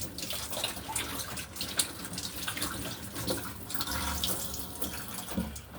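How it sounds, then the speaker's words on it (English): A kitchen tap runs steadily as hands are washed while cooking chicken fried rice, a continuous close splashing hiss with no talk. "I wash my hand now."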